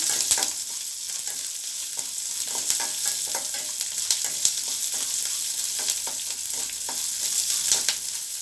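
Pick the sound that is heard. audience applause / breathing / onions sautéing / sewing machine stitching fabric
onions sautéing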